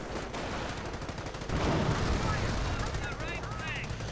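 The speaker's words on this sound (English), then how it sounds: "we're seeing a heavy machine gun team now opening up on his Panzer Grenadiers" Heavy machine gun team opening fire in a Company of Heroes-style strategy game battle, a dense continuous rattle of automatic fire with a louder burst midway and whistling effects near the end.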